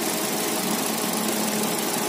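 A 2010 Chevrolet Cruze LTZ with a 1.8-litre Eco engine idling, giving a steady, even broadband engine noise that stays loud and unbroken throughout.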